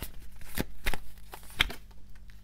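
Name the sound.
tarot cards being shuffled and drawn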